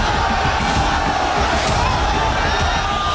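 A large crowd roars and cheers steadily at Amit Shah's roadshow in Kolkata, a dense, continuous wall of massed voices with a few louder swells of shouting.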